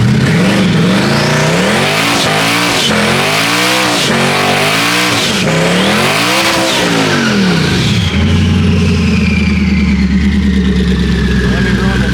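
A Ford Mustang S197 launching down a drag strip, loud close engine roar with repeated rising revs and gear changes, then a steady high drone as the car pulls away.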